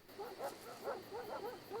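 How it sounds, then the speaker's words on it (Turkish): Dogs in the zombie shooter game Into the Dead 2 bark and yip in a quick repeated series, faint and somewhat distant, with no talking over them. "Evet yine köpek avlamaları."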